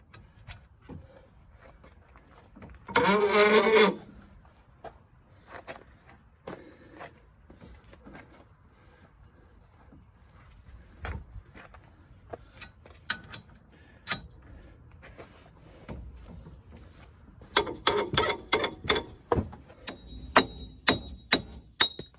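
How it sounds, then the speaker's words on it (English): Seized front wheel hub being extracted from a rusty Ford Focus MK2 with a 22 mm socket, a burst of rapid ratcheting or impact rattle, scattered metallic ticks and knocks, then a second longer run of sharp rattling clicks, close, with no talking. "now I'm going to extract the hub"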